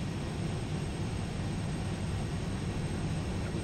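Steady engine drone of a propeller-driven aircraft in the IL-2 1946 flight simulator, a loud, continuous, unbroken roar with no voices.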